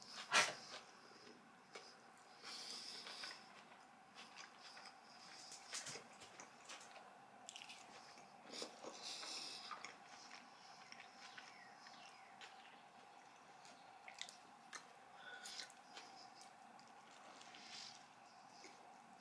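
Close, quiet crunching and chewing of a hot honey chicken and jalapeño burger, with repeated soft bites and mouth sounds spread over the whole stretch and a sharper crunch at the start.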